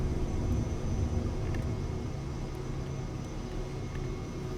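Airplane taking off in Microsoft Flight Simulator 2024 with full realism, a steady broad engine roar and rumble, loud and constant, slowly easing slightly, no talk.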